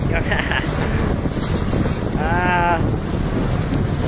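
Strong wind buffets the microphone over rushing water and waves as a boat moves along on a day tour to Taal volcano, with a brief whistling tone partway through.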